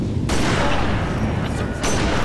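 Heavy gunfire in the Halo Reach video game, loud sustained bursts of shooting that cut off briefly then resume, close and dense.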